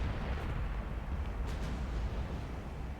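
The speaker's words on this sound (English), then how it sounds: "that destroyer is now being targeted by pretty much everything. So it just blew up catastrophically" Warship gunfire and a destroyer blowing up in the naval game Ultimate Admiral Dreadnoughts, with a dense, rumbling roar of heavy explosions and booming shots running continuously and loud.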